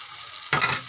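Vegetables softened over several minutes of frying in a pan sizzle quietly, then a louder burst of frying and stirring kicks in halfway through, close by with no voices.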